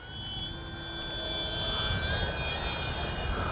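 A Kavan Pilatus PC-6 Porter radio-controlled model plane flies overhead, its motor giving a thin, steady whine that rises and shifts in pitch over a breezy outdoor rush.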